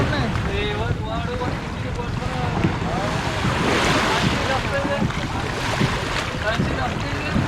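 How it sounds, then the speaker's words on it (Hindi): Waves and wind wash steadily around a traditional old-style wooden boat out on the sea off Gwadar, with constant wind buffeting the microphone and faint voices mixed into the rushing water. "ये जो लकड़ी वाली कश्ती है पुरानी ट्रेडिशनल स्टाइल की, इस कश्ती में हम बैठेंगे, ज़रा आगे समंदर का थोड़ा सा राउंड लगाएंगे"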